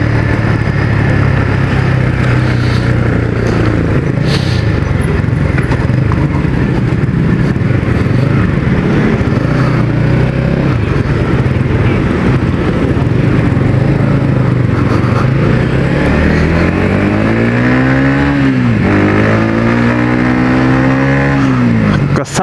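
Yamaha XSR 155 cafe racer fitted with an R25 exhaust, its engine droning loud and close throughout, with a rising rev near the end.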